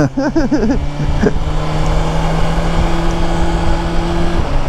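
A BMW S1000XR motorcycle exhaust holds a steady, whiny drone much like a vacuum cleaner, running close and continuous for several seconds after a brief voice at the start.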